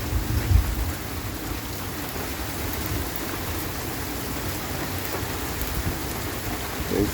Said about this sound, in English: And the thunder and lightning is just starting to